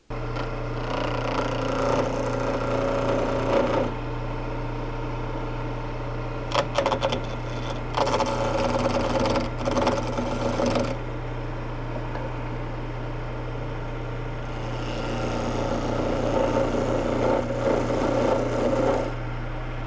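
A wood lathe hums steadily as a skew chisel cuts a baluster, with bursts of rougher scraping and cutting noise coming and going over the constant motor drone.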